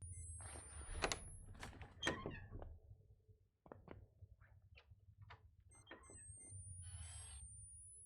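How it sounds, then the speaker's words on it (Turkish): A door opening in the horror game Outlast 2, heard as a few sharp creaks and knocks early on, followed by quieter scattered clicks and movement sounds against a low hum. "Orada bir kapı açıldı galiba."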